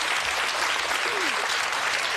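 Studio audience applauding during a Jerry Springer talk show episode, a steady, dense wash of clapping that holds at an even level throughout, with a faint crowd murmur underneath.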